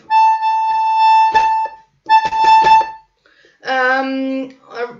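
Two bursts of accordion chords with quick bouncing bellows attacks, a bellows ricochet on five, followed by a short sustained accordion chord and a final brief note.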